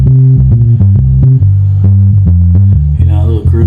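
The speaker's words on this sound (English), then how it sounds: "a little bass line, sounds like this." A bass line plays back, deep repeating notes in a bouncy groove, loud and close, with a brief higher flourish near the end.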